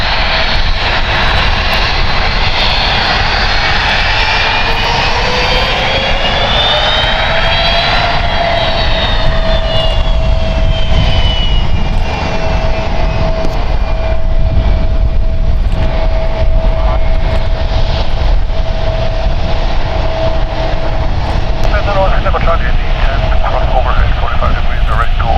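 An ANA airliner in Pokémon livery taxiing to the gate at San Francisco International Airport, a loud continuous jet engine whine with rising and falling tones, close by and steady, with people talking over it and wind noise.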